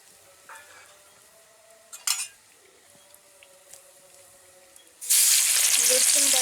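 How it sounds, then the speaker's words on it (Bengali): Sugar, dried red chillies, bay leaf, garam masala, cloves, cardamom and cinnamon hit hot oil, and a loud, steady sizzle erupts after a few quiet clinks of utensils. The sizzle continues close and constant to the end. "তেলে আমি সামান্য চিনি দিয়ে দিয়েছি, শুকনো লঙ্কা, তেজপাতা, গরম মশলা, লবঙ্গ, এলাচ, দারচিনি"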